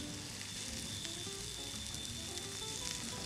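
Pasta warming in a hot pan gives off a steady, close sizzle that holds at an even level from start to finish, with no voices.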